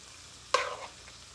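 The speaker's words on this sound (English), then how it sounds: "Let's put that in there first and give it a stir." A spoon scrapes once through rice and diced petite tomatoes in a pan, a brief close stir over a faint background sizzle.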